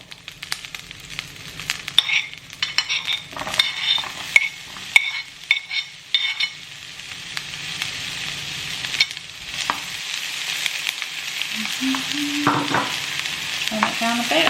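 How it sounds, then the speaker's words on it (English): Spring onion and red onion hit hot olive oil in a frying pan, setting off a steady close sizzle, with spoon scrapes and stirring clatter on the pan throughout. "I've got my frying pan, I've got some olive oil in there, and I'm just warming it up. And I'm going to put my spring onion and my red onion in there."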